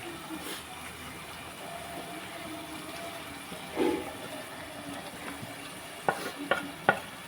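Snail curry with masala stirred in a pot, a soft frying hiss beneath, with a few scrapes and sharp clinks of the spoon near the end, close and fairly quiet.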